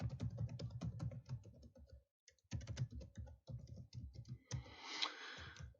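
Quick bursts of keystrokes on a computer keyboard, close and crisp, a brief pause near two seconds, then more typing ending in a louder flurry of clicks.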